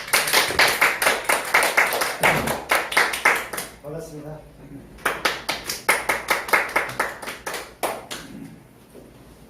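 A crowd at a gathering breaks into rhythmic, brisk applause, then pauses for a short spoken greeting, then claps again in a second sustained burst.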